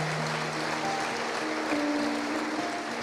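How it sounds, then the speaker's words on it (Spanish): A church congregation claps in a sustained, fairly soft wash of applause during a worship service, with steady tones from instruments or voices beneath it. "Denle un aplauso fuerte al Señor"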